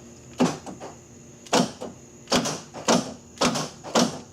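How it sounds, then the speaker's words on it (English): A Chevy Suburban door lock being tested, giving a series of about six sharp mechanical clunks at uneven intervals, close and distinct over a faint background hum. "let's check the door lock"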